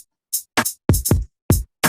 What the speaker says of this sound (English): So it's a 16-channel sample-based drum machine.